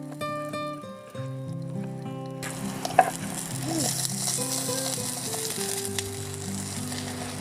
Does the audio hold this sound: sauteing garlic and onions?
yes